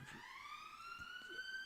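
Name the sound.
fire alarms and ambulance sirens outside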